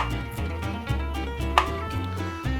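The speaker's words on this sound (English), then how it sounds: "all I'm going to do is to cut them very thinly like this" A knife slices thin rounds from parboiled potatoes on a board, giving a close series of about six distinct chopping knocks at an even, unhurried pace, with no talk over them.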